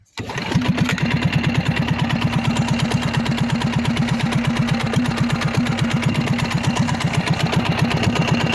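After a sharp pull-start, an air-cooled diesel engine on a moped catches at once and settles into a loud, steady, rapidly thumping idle, close by and alone.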